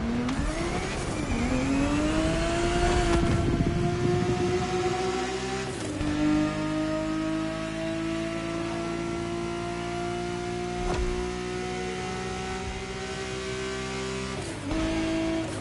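Ferrari 365 GTB4 engine in Crew Motorfest, a steady loud drone rising in pitch through acceleration, shifting gears with brief dips, then holding a sustained high whine close up.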